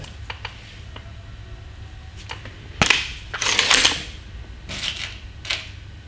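A Snowpeak SR1200S air rifle fires a pellet from a shooting rest: a sharp crack followed by a brief rattling burst and a couple of fainter clicks afterward, close and otherwise quiet.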